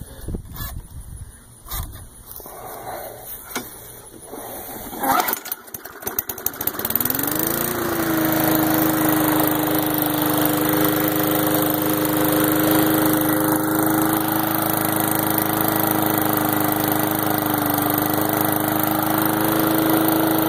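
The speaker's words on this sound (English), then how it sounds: "I just had it running" A small push lawn mower engine starts up after some fumbling and clanking, then runs steadily and loudly at a slightly slow idle to the end.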